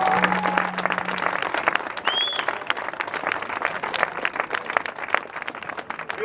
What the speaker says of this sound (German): würde euch einmal kurz einen Applaus für die Medien bitten